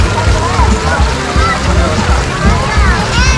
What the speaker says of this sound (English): I'm just going to swirl the water around the pan in a circular motion and wash this sand away